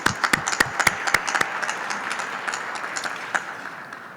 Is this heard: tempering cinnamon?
no